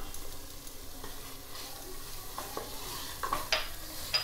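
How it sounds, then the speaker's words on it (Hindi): Yogurt is stirred into hot masala in a pan for paneer biryani, with a steady low sizzle under repeated scraping strokes of a spoon that grow a little louder toward the end. "दही को देते ही लगातार चलाते हुए दही को एकदम अच्छे से मसाला के साथ मिक्स करना है ताकि दही फट ना जाए"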